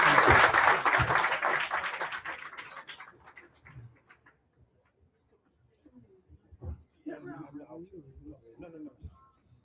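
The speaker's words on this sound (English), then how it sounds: "A round of applause for our panelists." An audience at a Bank of Ghana roundtable claps for the panelists in a dense burst of applause that gradually thins out over a few seconds, then gives way to scattered speech.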